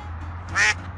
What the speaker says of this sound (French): Là je vous montre les oies pour garder la surprise.